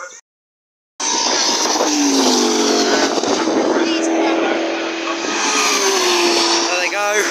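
Race cars roar past at close range on the Castle Combe circuit after a short silence. Engines scream loudly as the pack surges by, rising and falling in pitch, with a voice briefly talking over them.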